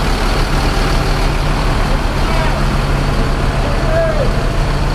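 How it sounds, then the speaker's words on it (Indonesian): A Mercedes-Benz OH 1526 bus with Rahayu Sentosa bodywork at Kampung Rambutan bus terminal, its loud, steady diesel drone filling the scene amid constant traffic noise, with a brief high squeal and voices in the background. "Bis ini memakai sasis Mercedes-Benz OH 1526, karoseri dari Rahayu Sentosa."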